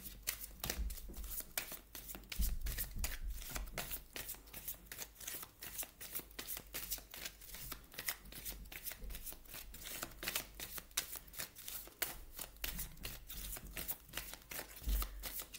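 Tarot or oracle cards shuffled steadily by hand, a dense continuous riffling and slapping of card stock that runs without pause, close and fairly quiet, with no voice over it.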